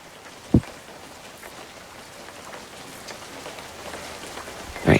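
Rain in a fishing video game, a steady patter of falling drops with a couple of sharper splashes, close and moderately loud.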